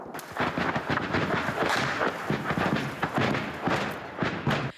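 Rapid bursts of gunfire and heavy booming blasts from fighting in Bakhmut crackle continuously, loud and dense, with sharp reports cutting through a rumbling, chaotic din.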